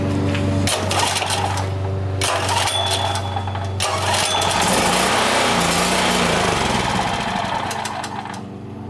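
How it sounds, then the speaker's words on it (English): A small portable generator engine, its carburetor just cleaned with GumBuster, catches and runs with a loud, buzzy mechanical drone and clattering rhythm, steady for several seconds before dipping slightly near the end. "So the engine started."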